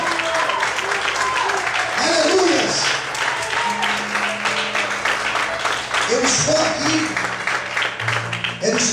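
A church congregation claps strongly and steadily through the whole stretch while a preacher keeps speaking loudly over it.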